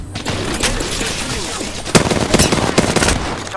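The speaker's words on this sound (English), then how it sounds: "Opening fire on the enemy." Rapid gunfire in the video game Apex Legends, loud bursts of automatic shots fired close, with dense crackling volleys and a sharp boom partway through.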